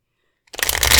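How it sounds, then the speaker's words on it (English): Tarot cards riffled in a brisk shuffle during a card reading, starting abruptly after a moment of near silence and continuing as a dense, close, crackling rush of card edges. "so we're going to shuffle again."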